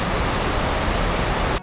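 Heavy rain pours down during a stop at a convenience store in Bulacan, a dense, loud, steady roar of water that cuts off abruptly near the end, with no voices.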